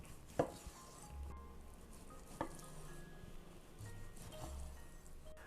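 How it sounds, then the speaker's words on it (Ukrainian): A knife cuts the rear part of a beef cut into pieces on a board for borscht, landing a couple of sharp, quiet chops amid low kitchen rustle. "Яловичину, задню частину наріжемо також, думаю, ось такими шматочками."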